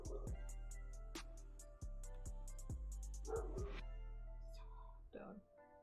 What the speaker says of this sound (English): Sorry for the dogs.